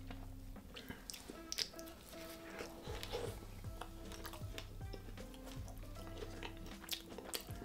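Close, quiet chewing of a homemade Viking-style mince pie, with soft squishy bites and mouth sounds repeating irregularly throughout, no talking.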